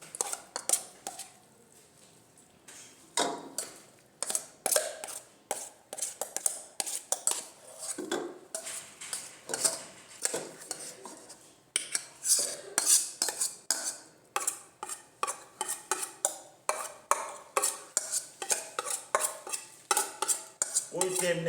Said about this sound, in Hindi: ये सब मिक्स करेंगे। इसको इस बड़े बर्तन में डालते हैं।